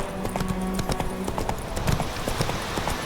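Hooves of Roach, the horse in The Witcher 3, clip-clop in a quick, steady rhythm, close and clear over a faint background bed.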